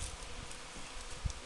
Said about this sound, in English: Bees everywhere.